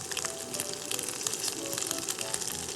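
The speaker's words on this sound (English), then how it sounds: "We're gonna add our tofu cubes. So I like to kind of add them in individually. Let that sizzle in the pan." Tofu cubes sizzle steadily in hot avocado oil in a pan, a dense, continuous crackling hiss heard up close with no talk.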